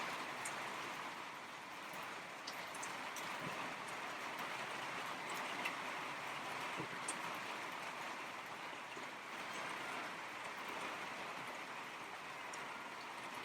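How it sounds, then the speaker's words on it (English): Heavy rain pours down in a steady, dense hiss with scattered drips and patters, constant and enveloping with no voices. "Yeah, wow, the rain's really coming down. I can barely hear you."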